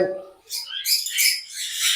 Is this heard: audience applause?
no